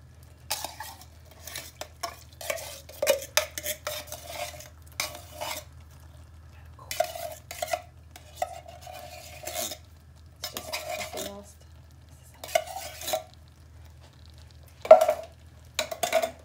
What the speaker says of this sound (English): break that up and mix it through.